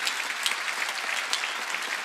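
Steady applause from a church congregation during a sermon, a dense continuous patter of many hands clapping, moderately loud and unbroken, with no voices on top.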